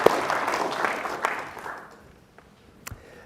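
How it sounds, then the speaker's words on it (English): Applause at an Opera House political forum, a burst of clapping that is strong at first and then thins and fades away, leaving a few scattered claps near the end. "Let's give Dave and the entire group here a round of applause here at the Opera House"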